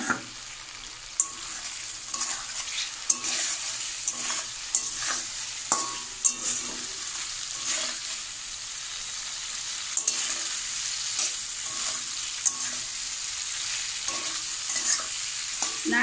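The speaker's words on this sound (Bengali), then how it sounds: "এবারে আমি চিংড়ি মাছগুলো দিয়ে দেব।" Prawns fry in a cooked-down spice paste for Bengali malaikari, a steady close sizzle with frequent stirring scrapes and clicks of a spoon against the pan, no voice.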